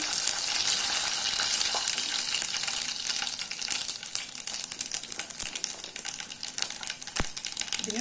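Pepper, cumin, fennel and dried chillies crackle and sizzle in hot oil for tempering sambar, a continuous close hiss with scattered pops and a few sharp spatters.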